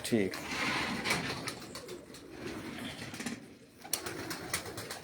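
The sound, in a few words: pigeons cooing, Ustad Akmal Khan breed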